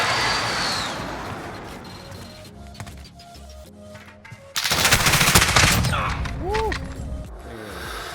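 Gunfire from a Call of Duty match, rapid automatic bursts crackling loudly up close among in-game effects.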